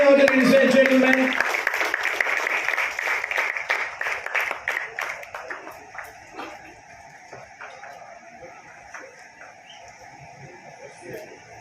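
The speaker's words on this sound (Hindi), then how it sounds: "जोरदार तालियां हो जाए, लेडीज एंड जेंटलमैन" Crowd applause at a stage launch event for a singing and dancing show in the USA, loud clapping that starts dense and gradually thins into scattered claps and a lingering room murmur.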